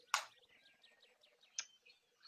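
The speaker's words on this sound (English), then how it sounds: "Will you please turn down the bird chirping a little bit?" Quiet, repeated bird chirps in a quick descending pattern, with a couple of sharp clicks.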